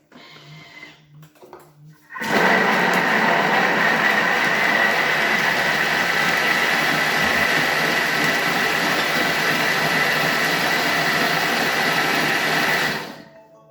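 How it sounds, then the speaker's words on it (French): A food processor blending peppers and tomatoes for gazpacho at speed 7, starting abruptly and holding a loud, steady whirring roar for about eleven seconds before cutting off, with no talking over it. "je vais mixer le tout. 10 secondes à vitesse 7."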